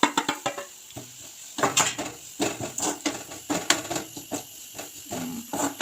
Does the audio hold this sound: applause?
no